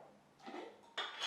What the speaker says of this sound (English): And then spoon it into your jar.